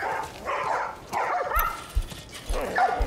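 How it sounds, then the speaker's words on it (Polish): Dogs barking and yipping in The Last of Us Part I, several short barks and whimpers at moderate distance, arriving in bursts over a few seconds. "Pieski."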